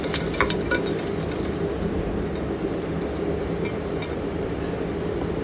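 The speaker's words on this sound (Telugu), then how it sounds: "టమాటా బుక్కల్ని యాడ్ చేసి వీడియోలో చూపిస్తున్నట్టు చక్కగా కలుపుకోవాలి" Tomato pieces are stirred into fried onions in a pan on a medium-high flame, a soft steady sizzle punctuated by several bright metallic clinks of the spoon against the pan, close by and with no voices.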